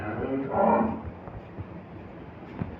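A bull calf on a dairy farm in Faridpur gives a single low, drawn-out moo near the start, then the barn stays quiet with faint background noise.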